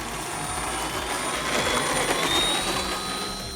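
A small RC model plane's engine rises steadily in pitch as it throttles up for takeoff from a rough little runway, a close, continuous whine with no talking.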